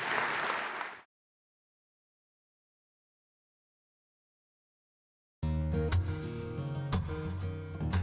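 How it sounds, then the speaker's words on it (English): About a second of loud audience applause for Hall of Fame inductees at a 2006 sports induction ceremony, cut off abruptly, followed by several seconds of silence and then music starting. "Let's give all of these inductees another nice round of applause."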